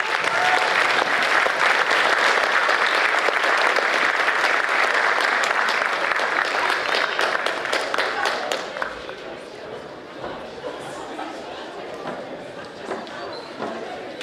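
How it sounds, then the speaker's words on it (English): A high school crowd at a spring sports awards night breaks into loud, dense applause that thins after several seconds into scattered claps and murmured talk in a room. "All right, let's give him a round of applause."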